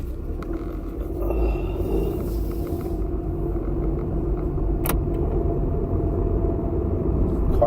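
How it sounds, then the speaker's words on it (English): A car engine running rough, a steady low rumble and drone heard from inside the car, with faint jingling and a brief sharp click partway through. "Car's not sounding good."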